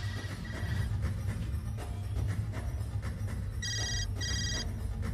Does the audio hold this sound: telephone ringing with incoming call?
yes